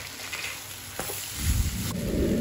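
Soya chilli frying in a pan as tomato ketchup and spices are stirred in, a close sizzle with a couple of clacking stirs, the frying swelling louder and bubblier toward the end.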